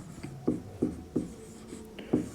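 Chalk or pen writing on a board during a chemistry lesson, a series of short, rhythmic scratchy strokes, close and fairly quiet, with no talking.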